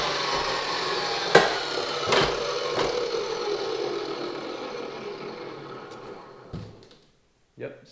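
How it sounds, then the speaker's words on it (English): A SkilSaw 14-inch chop saw runs with a steady, loud broadband whir, broken by a few sharp knocks, then gradually winds down and falls quiet, followed by a couple of faint clicks. "Yep, sounds like a saw."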